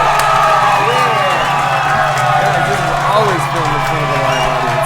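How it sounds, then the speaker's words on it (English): An audience at a live talk claps and cheers in a sustained, loud wash of crowd noise with whoops and shouts rising and falling throughout. "Thank you for all the claps, the cheers, and the hoorays."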